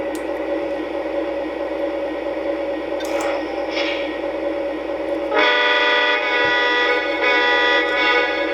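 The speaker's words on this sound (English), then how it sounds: "I'll throw the rear coupler, and it also has that sound." Rear coupler sound effect of a Santa Fe U28CG O-gauge model locomotive from a 2006 freight set: a steady tonal hum, then a louder, brighter multi-tone sound cuts in abruptly and holds to the end, with no talk.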